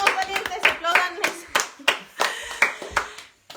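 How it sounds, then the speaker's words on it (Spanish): Applause rises for a guest at a church service: uneven clapping by a small group comes in bursts, close and fairly loud, while a voice speaks over it. "Recibimos con un fuerte aplauso"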